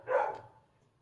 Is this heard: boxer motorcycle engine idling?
no